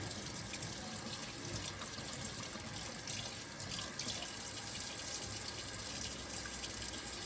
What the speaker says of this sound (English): I'm just washing the razor off with some soapy water